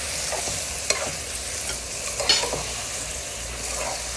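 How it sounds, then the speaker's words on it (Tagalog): Meat with peppercorns, bouillon cubes and spices being stirred in a frying pan, a steady low sizzle under repeated scraping strokes and a couple of sharper clinks, close and moderately loud, with no talking. "halo-halo natin para mag-mix yung mga ricado"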